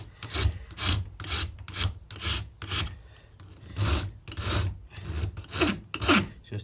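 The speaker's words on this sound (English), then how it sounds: "And for this, I can use my dragon rasp." A dragon rasp files a carved wooden shorebird bill in repeated rough back-and-forth strokes, close and distinct, with brief pauses between passes.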